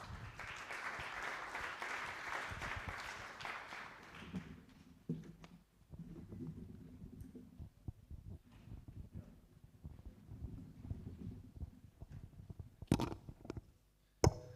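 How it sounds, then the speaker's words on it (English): Conference audience applauding an ambassador at a climate and security event, a distant, fairly faint burst of clapping for about four seconds, followed by quieter room noise and shuffling. "A round of applause for Ambassador."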